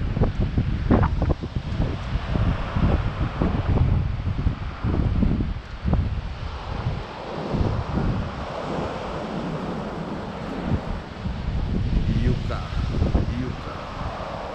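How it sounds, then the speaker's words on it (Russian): Wind gusting through a palm tree on a Sochi beach in spring, with rough rustling bursts and heavy wind buffeting over distant surf, loud and uneven throughout. "Пальмочка трясется от ветра."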